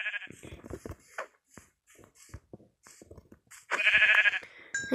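Two sheep bleat in Minecraft, short wavering blats popping up among scattered clicks and footsteps, with one loud, drawn-out bleat standing out near the end.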